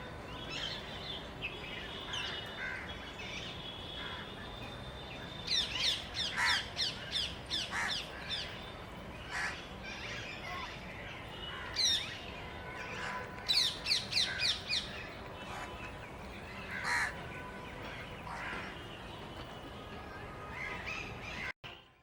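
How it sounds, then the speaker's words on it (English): Brown-headed barbet and other birds in a Delhi park: a low background hum of ambient noise broken by intermittent bursts of repeated calls and chirps, moderately close, with quieter stretches between calls. "that sound is of brown-headed barbet."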